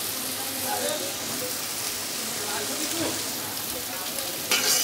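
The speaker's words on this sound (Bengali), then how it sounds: "এগুলো বাদামি কালার করে ভেজে নিব" Mixed vegetables fry in a pan with a steady, dense sizzle that carries throughout, close and fairly loud, with a brief sharper hiss near the end.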